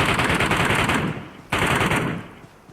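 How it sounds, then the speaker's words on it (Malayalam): Rapid automatic gunfire from the battle royale video game BGMI on the Erangel map, loud dense bursts filling the first half, cutting briefly and resuming, then fading out toward the end. "ഒരു വെടി"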